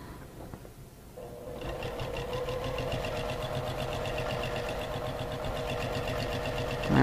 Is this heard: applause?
no